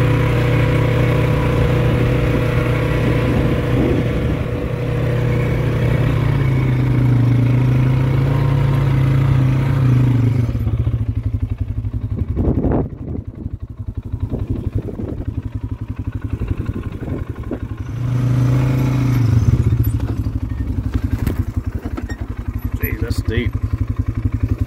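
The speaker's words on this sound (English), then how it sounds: "let's ride around the parking area just a little bit" An ATV engine rumbles steadily while riding around the parking area of an off-road park in Norman, Oklahoma, loud and close with shifting revs, and a voice talks over it for much of the time.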